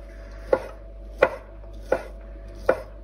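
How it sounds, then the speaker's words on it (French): A knife chops stacked pizza toppings on a cutting board: four crisp, distinct knocks about two-thirds of a second apart, close and clear, with no talking. "On les empile, comme ça c'est plus facile à couper."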